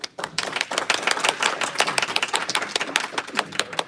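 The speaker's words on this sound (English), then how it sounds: "So give him a round of applause, please." An audience applauds a guest speaker at a blockchain and crypto legal info session, a steady burst of many hands clapping together, fairly close and unbroken, with no voices over it.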